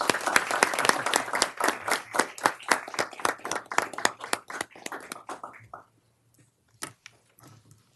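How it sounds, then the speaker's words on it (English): An audience in a city council meeting room applauds, a dense burst of hand clapping that thins out into a few scattered claps before falling silent. "Can we give them a clap out?"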